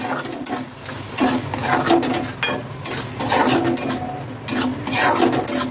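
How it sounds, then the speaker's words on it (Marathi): Red chili masala fries in oil for chicken sukka while a spoon keeps stirring it, making a steady sizzle with scraping and clinking strokes close by. "छान असा मसाला आपल्याला भाजून घ्यायचा आहे 5 ते 10 मिनिटं तेल सुटेपर्यंत"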